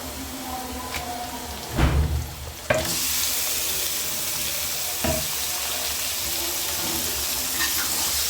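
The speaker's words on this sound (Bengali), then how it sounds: "ভাজা হয়ে গেছে, এর মধ্যে আমি মাংসটাকে দিয়ে দেব" Chicken pieces go into a pan of fried potatoes, seasoned with garam masala, for a Bengali red chicken and potato curry. A bump of clatter comes first, then the frying jumps into a loud, steady, broad sizzle that holds to the end.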